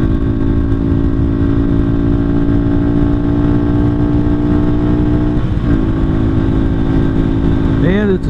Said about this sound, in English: Has really good acceleration for a 200cc.